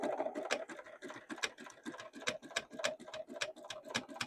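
A sewing machine runs steadily, stitching at a longer stitch length, its rapid needle clatter forming a continuous rhythmic patter close by, without speech.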